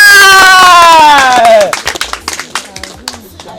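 A voice rings out briefly, then scattered, uneven hand claps from a small audience follow for a couple of seconds during a comedic spelling quiz.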